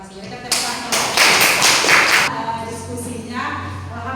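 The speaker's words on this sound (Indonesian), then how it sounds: "Berikan tepuk tangan." An audience claps during a talk, a dense burst of applause that starts suddenly, swells for about two seconds and then fades, with a voice speaking around it.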